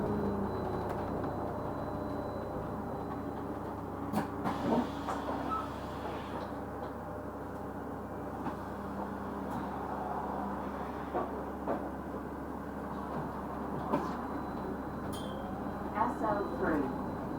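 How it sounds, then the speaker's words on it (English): Bus axle drone from a bus on route SL3 carrying a loud generator, a steady low rumbling tone running throughout with faint clanks and knocks on top. "The axles on buses just have that iconic tune to them, man. You can tell what's making the axle noise."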